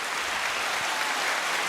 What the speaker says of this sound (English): Your clapping track sounds like a waterfall.